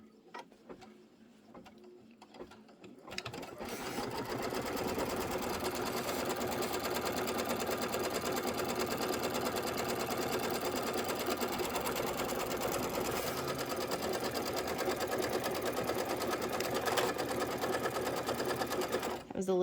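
A sewing machine stitching a tack-down on a pillow starts up after a few quiet seconds and runs steadily, a close, continuous mechanical whir with rapid needle clatter.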